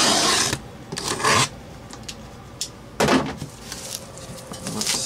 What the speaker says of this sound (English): So let me grab the box cutter and get this box open.